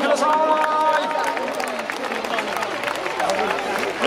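Baseball stadium crowd at a ceremonial first pitch, a broad wash of clapping and cheering mixed with crowd babble and a voice over the public address, sustained and loud throughout.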